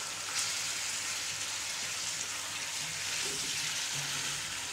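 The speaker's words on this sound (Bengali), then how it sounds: "চিকেনটা ভাজার সময় আমি এখানে একটু শুকনো লঙ্কা ব্যবহার করব" Chicken frying with dried chilli for a home-made biryani, a soft, steady broadband sizzle close by with no talking.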